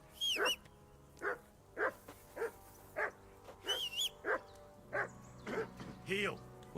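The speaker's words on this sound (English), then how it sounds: "call that dog to heel." Dog barking in the video game Kingdom Come: Deliverance II, a run of about a dozen short, fairly close barks and yips in an uneven rhythm, with game dialogue voices heard around them.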